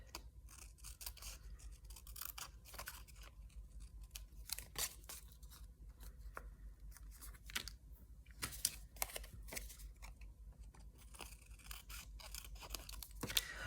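Paper being cut off along an edge for a small handmade paperclip notebook for junk journaling: quiet, repeated crisp snips and scraping crackles in an uneven rhythm, close and faint, with no talking.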